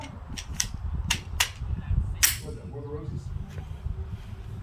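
A Glock 22 in .40 S&W fires a quick string of sharp shots from a 25-round magazine, several cracks in rapid succession with a voice heard among them.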